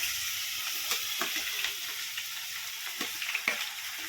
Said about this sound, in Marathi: आता आपण कांदा टाकून घेऊ याच्यामध्ये